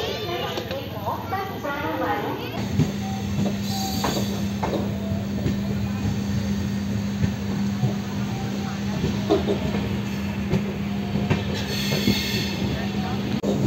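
The Podhigai Superfast Express rolls through Tenkasi railway station with a loud, continuous rumble, rhythmic wheel clatter on the rails and occasional squeals, while voices talk over the passing train.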